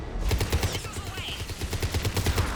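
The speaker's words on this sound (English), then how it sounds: "Missiles away." Missile launches and rapid weapon fire in the Mass Effect 3 video game, a dense run of loud, evenly spaced bursts over a low rumbling drone, with a brief whooshing sweep partway through.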